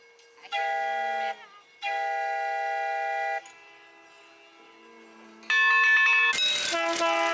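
Steam-style train whistle on a small Kansas City Northern excursion railroad, sounding in two long, loud chord blasts, then a quieter pause and a third brighter blast with bell-like ringing layered over it near the end.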